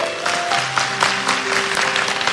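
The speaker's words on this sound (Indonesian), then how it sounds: "Kasih tepuk tangan untuk Tuhan." A church congregation applauds during a sermon, sustained clapping that fills the room with a faint tonal hum of music or keyboard underneath.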